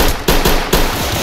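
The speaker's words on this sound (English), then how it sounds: "They shooting on my mama" Rapid automatic gunfire in a video game set in the South Bronx, loud and close, firing in dense bursts with brief gaps.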